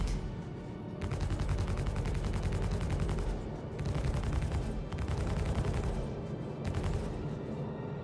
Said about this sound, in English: Oh, they're firing now.